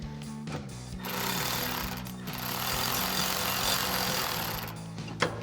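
A 14mm swivel socket on a power tool hammers away at the bolts of a Barricade 3-inch bull bar on a Toyota 4Runner, with a loud, continuous close-up rattle after a short start and a stop near the end.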